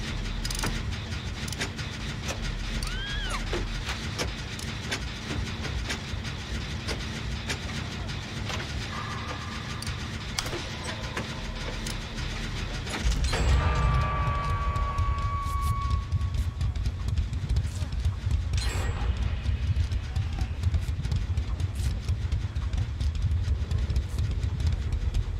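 In Dead by Daylight, a generator is being repaired to a continuous mechanical rumble and clatter that grows noticeably louder and denser about halfway through, with a few faint game tones and no speech.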